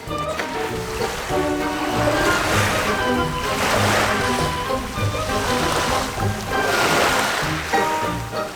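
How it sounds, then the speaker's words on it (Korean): Ocean waves roll and wash onto a beach near Vladivostok in winter, in a steady rhythm, swelling and receding every few seconds, with a faint tonal hum in the background and no speech. "출렁거리는 파도 소리가 듣기 좋습니다"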